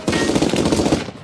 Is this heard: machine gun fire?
yes